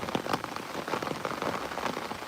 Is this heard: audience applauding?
no